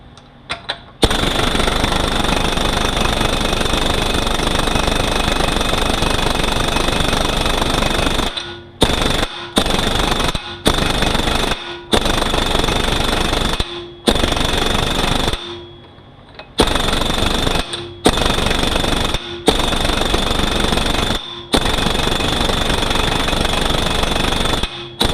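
Impact wrench with a two-inch socket rattling loudly on a 62TE transmission during disassembly, long continuous hammering bursts then a series of short on-off bursts with brief gaps.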